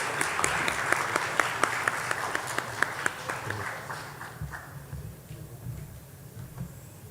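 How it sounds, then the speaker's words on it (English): An audience applauds graduates at a university recognition ceremony and anniversary celebration, a dense burst of clapping that peaks early and then fades out over several seconds. "One more round of applause for all of our graduates."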